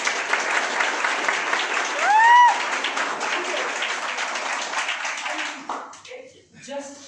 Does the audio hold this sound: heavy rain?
no